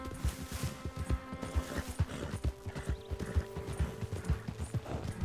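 Steady clip-clop of horse hooves with a whinny from the video game Red Dead Redemption 2, the hoofbeats thudding in a regular rhythm throughout at moderate loudness.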